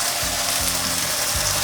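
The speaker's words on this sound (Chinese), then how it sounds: "再让豆包慢慢煎。" Bean curd sheet slowly frying in a little oil in a flat pan, giving a continuous close hiss and sizzle with faint low pops underneath.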